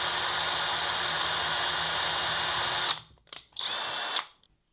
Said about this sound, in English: I think I'm going to try drilling that solder out.